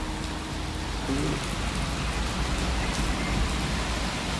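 Steady rain falls on a roadside stop at a gurdwara during a return trip from Hemkunt Sahib to Punjab, a dense, even hiss of drops pattering on surfaces that continues without a break.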